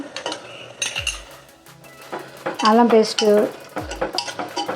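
Ginger paste sizzles with rajma (kidney beans) in a pan, with spoon stirring and metallic clinks against the pan over about five seconds and no talk.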